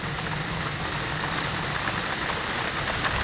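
Rain dripping and falling steadily onto surfaces in a dry-season shower, a dense continuous patter at moderate level with no pauses or voices.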